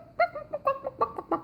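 A human voice imitates a hen, giving a quick series of short, rhythmic clucks up close.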